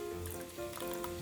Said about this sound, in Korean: 이렇게 김치 소스가 바글바글 끓으면 불을 꺼주시고요